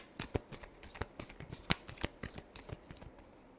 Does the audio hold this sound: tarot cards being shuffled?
yes